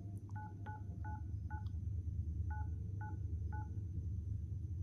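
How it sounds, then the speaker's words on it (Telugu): A telephone number is being dialled on a touch-tone keypad: seven crisp beeps in two quick bursts over a low steady hum, with a faint click near the start and no voices. "సో ఆ నెంబర్కి అయితే డయల్ చేద్దాం."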